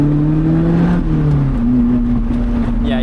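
A Lotus Elise sports car on a winding road, its engine droning steadily from inside the cabin with shifting pitch as it accelerates and eases between corners, loud and continuous with no talking.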